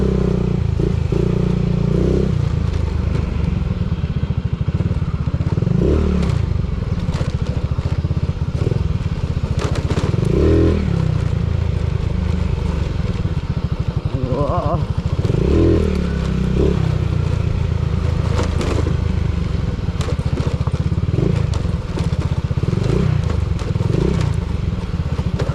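Dirt bike motorcycles ride on a trail, engines droning steadily and loudly throughout with revving swells and clattering over rough ground, close to the microphone.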